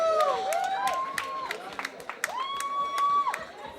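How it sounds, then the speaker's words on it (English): A crowd claps and cheers at a live music event as a performer is called up, with scattered sharp claps and whoops under a sustained tonal ringing, fairly loud and continuous. "Clap for her"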